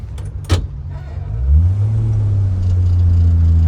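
An AMC Rambler with a manual clutch pulls away loudly: a few clicks, then a deep engine rumble that rises and settles into a steady droning hum close by, with no voices over it.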